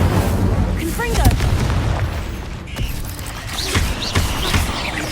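Repeated Confringo fire spell blasts in Hogwarts Legacy, cast in rapid succession: a steady run of deep booming explosions and crackling bursts, loud and dense, with chatter and in-game voices layered over the din.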